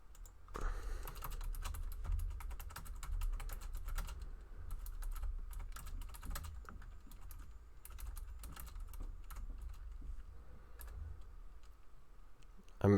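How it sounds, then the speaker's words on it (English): Quiet, rapid keystrokes on a computer keyboard run in uneven bursts as a message is typed into Discord, close to the mic and without speech. "I'm typing something into Discord real quick."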